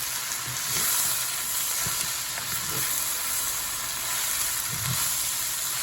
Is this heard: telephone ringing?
no